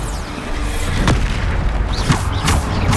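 Bombarda spell explosions in the Hogwarts Legacy video game, a loud continuous roar of booming blasts with swooshing whooshes layered over the rumble, no voices.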